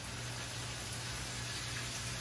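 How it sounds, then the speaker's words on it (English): White wine hits a hot pan of fatty lamb ragù with peas and herbs, giving a steady, faint hiss and crackle that runs evenly throughout with no voices. "We're going to go ahead and deglaze with the white wine."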